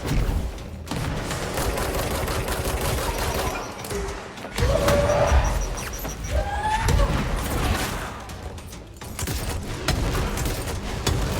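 Video game combat fills the air with grenade explosions and steady gunfire, loud and continuous with thumping booms scattered throughout, and a voice speaks at times over the action.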